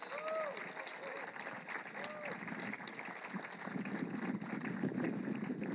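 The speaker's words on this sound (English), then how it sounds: "Let's have a round of applause." A crowd at an outdoor B-29 Superfortress dedication ceremony claps, the applause faint at first and then swelling fuller, with brief tonal chirps early on.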